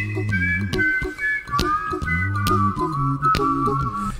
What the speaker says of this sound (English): this whistle is strong as hell